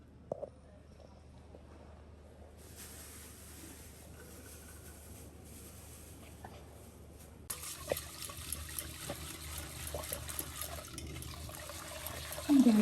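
Water runs and splashes as lentils are washed, first a soft trickle, then a louder, steadier stream with sloshing and a few clatters near the end.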